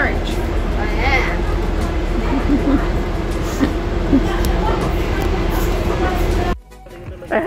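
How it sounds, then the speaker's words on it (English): Riding in the very front carriage of a London train, a steady rumble of wheels and carriage noise runs throughout with people talking over it, then drops away sharply near the end. "We're on a train."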